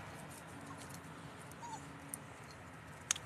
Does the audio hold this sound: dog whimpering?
yes